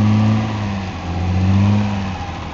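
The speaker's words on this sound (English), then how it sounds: "Accelerate slowly, and it seems to run alright." A 2001 Malibu car engine accelerates slowly with a steady, moderate hum whose pitch rises and dips gently, heard close and alone for a few seconds.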